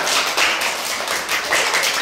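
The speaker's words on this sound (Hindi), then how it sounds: "तमन्ना के लिए तालियां बजाओ" A group of children claps together for Tamanna, the winner of a bird-flying game, in a dense, steady patter that swells in a few louder bursts over about two seconds.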